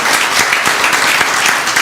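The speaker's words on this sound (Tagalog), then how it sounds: "Come on, clap your hands to the Lord." A church congregation claps hands together in loud, steady, dense applause that fills the whole stretch without a break.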